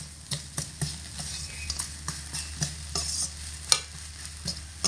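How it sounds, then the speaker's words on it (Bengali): A spoon scrapes around a pan of sizzling potato curry after sugar has been added, making repeated rhythmic stirring strokes over a soft, constant frying hiss, close up and without speech. "চিনি দিয়ে হালকা একটু নাড়াচাড়া করে আর আঁচটাকে লো আঁচে দিয়ে"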